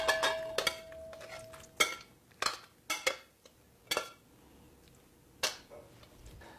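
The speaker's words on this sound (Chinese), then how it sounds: "我们把它盛到盘子里" Braised pork being stirred in its sauce and served onto a plate in a home oil-free cooking pot, with sharp clinks and scrapes of utensils against cookware, around seven distinct knocks spaced irregularly over a quiet background.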